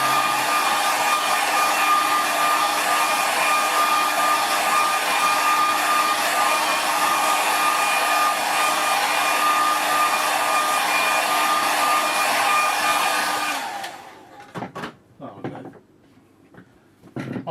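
A hair dryer runs loud and steady over a watercolour painting of Brean Down cafe in evening light for about fourteen seconds, then switches off, followed by a few soft knocks and handling sounds.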